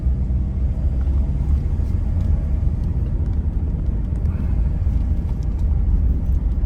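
A car drives along a mountain valley road, a steady low engine and tyre rumble heard from inside the vehicle, loud and unbroken, with no voices.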